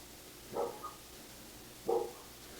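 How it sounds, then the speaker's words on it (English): Two short dog barks spaced more than a second apart, fairly distant and soft against a quiet background. "Ignore all the dogs barking,"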